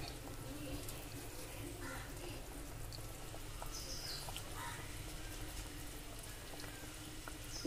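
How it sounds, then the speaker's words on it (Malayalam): A pot of fish curry made with 1 kilo of velappara fish bubbling at a gentle boil, a soft continuous simmer with faint pops and ticks, quiet and close, with no one speaking. "കറി നല്ല ഭംഗിയായിട്ട് തിളച്ചിട്ടുണ്ട്."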